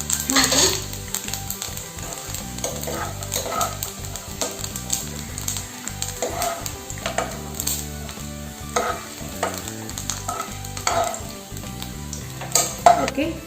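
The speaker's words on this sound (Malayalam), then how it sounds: "തേങ്ങാക്കൊത്തെടുക്കുന്ന സമയത്ത് ഒന്ന് ഗോൾഡൻ കളർ ആവണ വരെ ഒന്ന് ഫ്രൈ ചെയ്തെടുക്കണം കേട്ടോ" Coconut pieces frying in hot ghee for a Kerala-style pazham pradhaman give a steady sizzle, with a spoon stirring and metal knocking against the pan throughout, and no talk over it.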